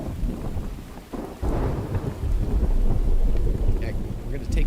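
Video game rain and thunder from the survival game The Infected: a steady hiss of rainfall with a deep rumble of thunder swelling in partway through and rolling on.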